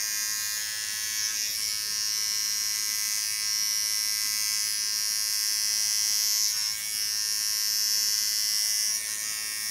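Hair clippers buzz continuously up close as they cut hair on an asymmetric disconnected style, a steady high-pitched electric hum with slight dips where the blade moves through the hair.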